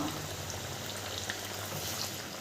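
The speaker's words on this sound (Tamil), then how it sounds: "பாருங்கள், எண்ணெய் நல்லா காஞ்சிருச்சு. இப்போ நம்ம ஒரு வடையாக போட்டுக்கலாம்." Green gram dal vada fries in hot oil with a dense, steady sizzle and bubbling that stays even and close throughout.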